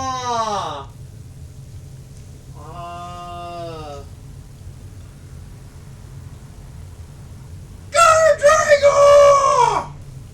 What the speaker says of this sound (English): With the scream